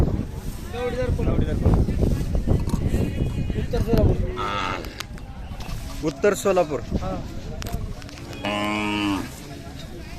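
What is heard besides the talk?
Khillar cow mooing at a livestock market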